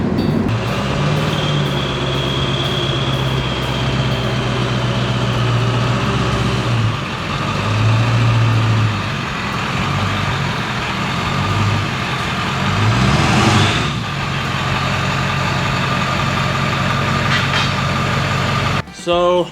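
A Ford Excursion with a 7.3 diesel and coilover conversion drives along, its engine a steady low rumble with road noise throughout, while someone talks over it close by.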